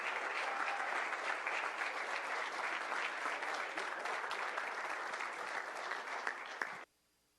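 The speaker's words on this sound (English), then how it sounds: "Give another round of applause." An audience at a city council meeting in West Covina gives a steady round of applause, dense and fairly loud, sustained for several seconds before stopping abruptly.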